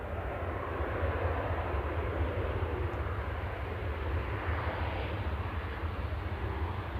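An Etihad airliner lines up at Manchester Airport, its engines giving off a steady distant low rumble and hiss at moderate-to-faint level, unchanging throughout. No voices.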